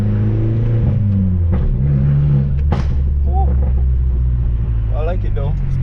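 A Fiat Abarth's engine drones loudly from inside the car, revving as it pulls through closely spaced gear changes, with a voice speaking over the steady roar.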